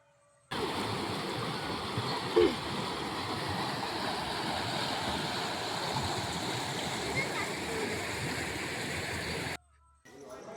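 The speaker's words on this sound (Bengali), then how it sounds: "দেখো এই দেখো কেমনভাবে জল স্রোতেভাবে যাচ্ছে" Stream water rushing past Sati Ghat, a steady broad wash of flowing water that starts abruptly, runs evenly for about nine seconds with one brief splash, then cuts off.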